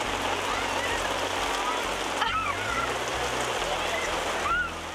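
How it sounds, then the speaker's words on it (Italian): Heavy rain pours steadily at the English seaside, a dense, loud hiss of drops pattering on surfaces, with faint distant voices and a few high squeaky calls underneath. "in questo momento la leggera pioggia diventa in fretta torrenziale"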